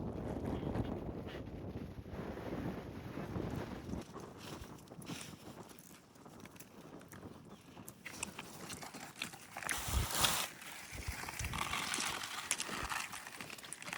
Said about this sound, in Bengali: আর সেই লেভেলের হাওয়া দিচ্ছে এখানে, বিশাল হাওয়া